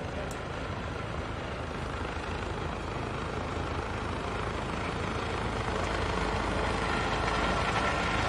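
A helicopter passes overhead in Las Vegas, a steady droning rotor rumble mixed with broadband noise that holds constant and builds slightly over several seconds, with no voices.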